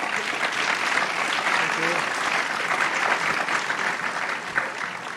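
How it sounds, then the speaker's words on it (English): Audience applause for panelists at an entrepreneurship kickoff event, sustained dense clapping from a roomful of people, fairly close and even, with a few voices faintly underneath. "I would say we give a round of applause to our panelists."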